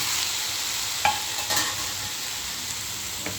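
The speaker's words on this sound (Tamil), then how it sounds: "இப்போ இது நல்லா கிளறி எடுத்துக்கிடுவோம்" Chickpeas are stirred in a frying pan over raised heat, a low continuous sizzle with a few light spoon taps against the pan.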